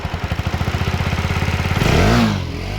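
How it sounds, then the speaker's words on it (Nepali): A rebuilt motorcycle engine idles just after starting with a fast, even, close putter, then revs up into a louder, rising roar before settling back. "स्टार्ट भयो बाइक, साउन्ड सुन्नु"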